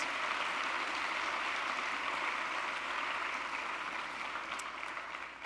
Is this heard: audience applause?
yes